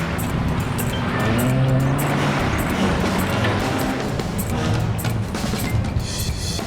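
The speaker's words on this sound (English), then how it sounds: "Spinning wheels back and forth to catch that little bit of grip." Truck wheels spin back and forth for grip while hauling a house, producing a moderate, continuous engine drone with rising and falling tire rumble and occasional scraping bursts, no voices.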